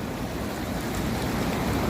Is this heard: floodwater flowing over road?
yes